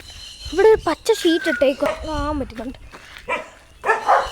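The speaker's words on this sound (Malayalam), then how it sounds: "ആ പട്ടി നമ്മളെ കാണുമ്പോൾ കിടന്ന് അങ്ങ് കുരയ്ക്കുന്നുണ്ട്" A large German Shepherd barks repeatedly at approaching people outdoors, in sharp close barks scattered through the clip, with someone talking over them.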